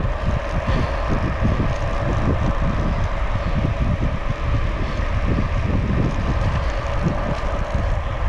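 Loud, steady wind roar buffeting the microphone while a bicycle coasts rapidly downhill into a headwind on a ride from Port Angeles to Sequim via Dungeness, a continuous low rumble with no pauses.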